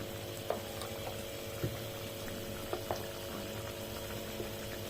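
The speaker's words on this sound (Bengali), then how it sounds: "একটু নেড়ে চেড়ে মিশিয়ে নিচ্ছি।" Aloo dum potato curry simmers with spices in a pan, bubbling softly and steadily while a few light taps of a spoon stirring and mixing sound at intervals.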